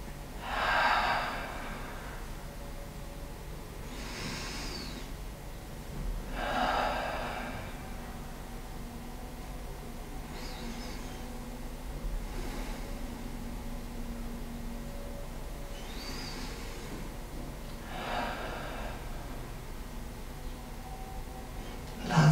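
Deep, slow breaths during a yoga exercise repeat about every five to six seconds, each a soft airy rush close to the microphone over a steady low background hiss.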